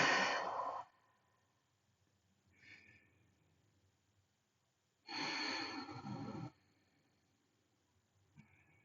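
Deep breathing during a stretching exercise: a loud close breath, then a faint one, then another long loud airy breath, with quiet gaps between them.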